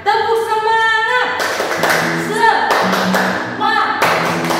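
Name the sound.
children and teacher clapping the 'tepuk semangat' spirit clap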